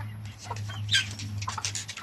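A small flock of backyard chickens clucks in a brief burst of soft, close calls over a low steady hum.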